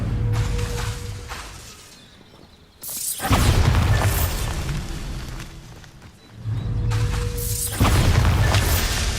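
Loud fire spell blasts from the wizarding game Hogwarts Legacy, two long roaring bursts of dense crackling noise each lasting several seconds, separated by a brief quieter dip.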